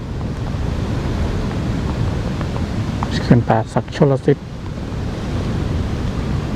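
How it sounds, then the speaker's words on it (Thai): Strong wind gusting at the Pa Sak Jolasid Dam in Lopburi during flood season: a steady, buffeting rumble that runs the whole way through, with someone speaking briefly in the middle. "ลมแรงมากเลยนะ สงสัยจะได้ยินเสียงลม"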